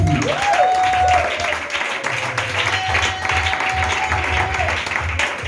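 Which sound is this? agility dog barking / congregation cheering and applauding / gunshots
congregation cheering and applauding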